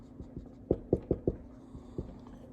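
Handwriting on a surface while working a math homework problem: a short series of soft, close pen strokes and taps, quiet and alone over a faint hum.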